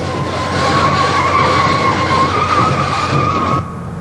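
A semi truck skids after a car slams into the rig, its tires letting out a loud, sustained squeal over harsh roaring friction noise for several seconds before the sound drops off abruptly near the end.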